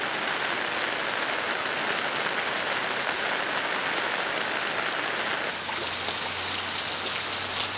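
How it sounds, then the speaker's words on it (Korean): Heavy early-monsoon rain pouring onto a chestnut tree where a mandarin duck nests, a dense, loud, continuous hiss of drops on leaves with no pauses. "원앙이 둥지를 튼 밤나무에도 빗소리가 요란하다."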